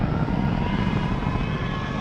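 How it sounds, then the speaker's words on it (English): The engine of a TIE Bomber starfighter in Star Wars Battlefront II, a steady, loud, broad roaring hum that holds constant throughout, with no talk. "And here's the TIE Bomber."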